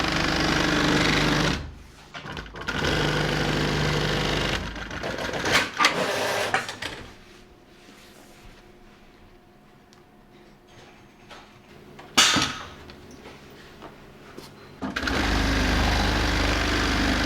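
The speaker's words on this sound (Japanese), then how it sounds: "ポケットの部分をこのコンピューターミシンで作ってい" A computerized sewing machine stitches the lining pocket of a white leather backpack in several bursts of fast, steady mechanical rattling, separated by short quiet pauses, close by and without talk.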